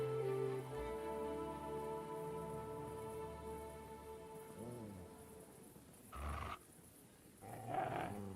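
The dog Mutt in the video game Kingdom Come: Deliverance 2 gives a low rumbling growl over sustained tonal background music, followed by two short gruff vocal bursts near the end.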